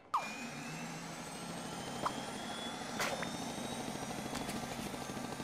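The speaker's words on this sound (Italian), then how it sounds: "potevi dirlo prima che ti serviva un helicopter" A helicopter summoned in the Scribblenauts video game gives a continuous mechanical whir with a faint rotor flutter, joined by a few short synthetic chirps and tones over the steady engine drone.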